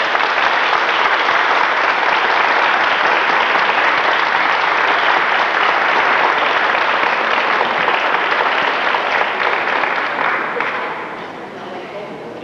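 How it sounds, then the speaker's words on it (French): A large concert audience at a choir performance of Chorale les Tournesols applauds in dense, sustained clapping for about ten seconds before it tapers off. "je demande au tournesol de vous applaudir pour être venus en aussi grand nombre nous voir ce soir"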